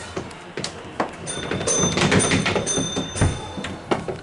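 Folding inner doors on an old Melbourne M&MTB tram close with a short mechanical clatter and a brief whirring motion, followed by a few faint knocks in a quiet interior.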